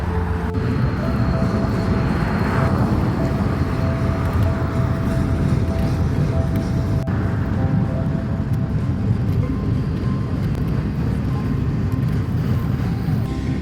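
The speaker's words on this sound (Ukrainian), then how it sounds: "Поїзд проїжджає. Чуєте сигнали?" A freight train rumbles past with a steady low roar and faint rhythmic clatter, continuous throughout, with a thin high tone running through the noise.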